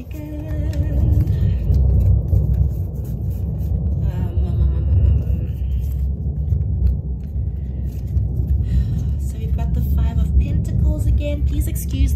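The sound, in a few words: thunder during rainstorm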